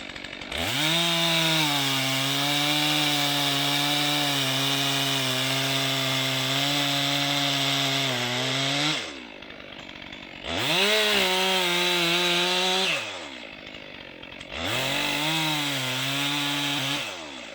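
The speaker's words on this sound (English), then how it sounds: "I'm going to use a bore cut. I'm going to bore through, I'm going to cut down" A chainsaw bores into a tree with a plunge cut for a jack knife felling technique, a loud close engine drone held steady for several seconds, dropping briefly, then revving up twice more with short breaks.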